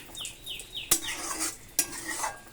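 Pakal fish curry with coriander leaves stirred in a metal pot, spoon clinks and scrapes repeating close by, two sharp knocks on the pot over a light simmer, with a faint rooster crowing in the distance.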